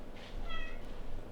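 A kitten gives a single short, high meow over faint background noise.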